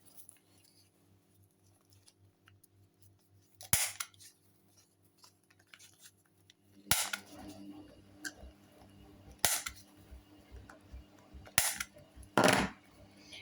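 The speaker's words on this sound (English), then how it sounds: "Got this little thing that rounds your corners off." A small handheld corner rounder punch clips the corners off paper for a junk journal, giving about five sharp, loud clacks spaced a second or two apart, with quieter handling rustle of paper in between.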